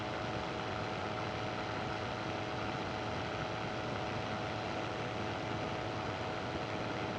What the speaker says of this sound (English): That was a pretty good takeoff, though, right up in the air.